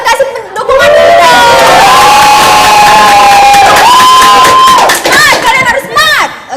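A school audience at a quiz event in Palembang cheers loudly in support, with sustained shouts and whoops from many voices, including children, running for several seconds at high volume.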